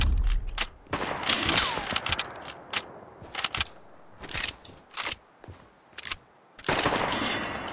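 Repeated bursts of gunfire in the Fortnite video game, rapid volleys and single shots coming in clusters with short gaps between them, loud and close, with almost no talk.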